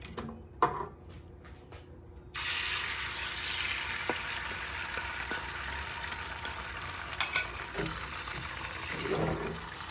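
An egg hits hot oil in a cooking pot and a sudden sizzle starts, then keeps going steadily with small crackling pops. A few quiet clinks come before it begins.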